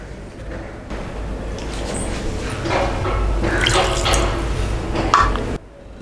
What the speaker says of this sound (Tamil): ஒரு 1/2 டம்ளர் தண்ணி ஆட் பண்ணிவிட்டு